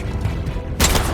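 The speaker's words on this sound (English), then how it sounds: "You shoot me with a shotgun from that distance, bro?" A shotgun fired at the player in the post-apocalyptic game Atomfall, one loud abrupt blast bursting in near the end over a rumbling game background.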